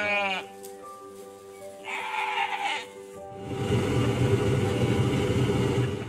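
Sheep and ewes bleat in repeated wavering calls at a rural farm in Masimanimba, Kwilu, heard fairly close over the first three seconds before a loud, steady broadband rumble takes over.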